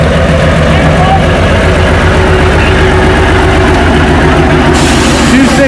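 A Ford pickup at a truck pull in the 4000 lb class, its engine roaring loud and close under full throttle as a steady heavy drone, with an announcer talking over it.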